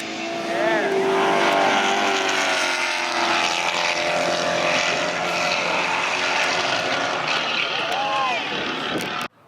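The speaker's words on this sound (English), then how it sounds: "All-wheel drive Civic." A turbocharged all-wheel-drive K-series Honda Civic racing at an airport event, a loud sustained engine roar with rising and falling revs as it passes, with people talking over it.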